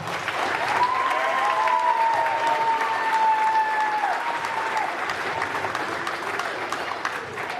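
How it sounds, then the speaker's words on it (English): Sustained applause from an audience at a high school football awards ceremony, steady loud clapping with a few voices mixed in, tapering slightly at the end. "let's give one more round of applause to these guys"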